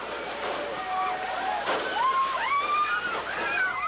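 Students run through a campus fountain, with water sloshing and splashing continuously under rising and falling shouts and voices from the crowd nearby.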